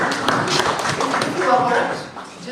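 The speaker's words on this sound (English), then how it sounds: "You need to clap for him because he's catching up with you." An audience claps for General Kachunga, a brief patter of scattered hand claps at a formal gathering, heard under a voice speaking.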